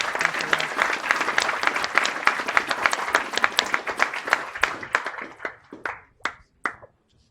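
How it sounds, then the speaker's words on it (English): An audience at a network operators' meetup gives a loud, dense round of applause that holds steady, then thins into a few scattered, isolated claps before stopping. "Round of applause."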